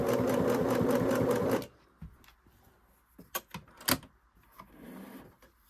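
A Singer sewing machine, freshly cleaned and oiled, runs in a steady fast whirring stitch for about a second and a half, then stops, followed by scattered quiet clicks and knocks from handling the machine nearby.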